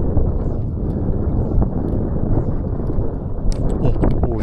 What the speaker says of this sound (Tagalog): may hangin-hangin na ulit